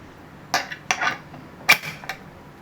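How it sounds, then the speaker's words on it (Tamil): A metal pressure cooker lid is fitted and clamped shut over rice, dal and turmeric, giving four or five distinct clanking knocks spaced unevenly, close and clear against a quiet background. "போட்டு குக்கரை மூடி போட்டு ஒரு 4 விசில் வர அளவுக்கு வச்சிடலாம்"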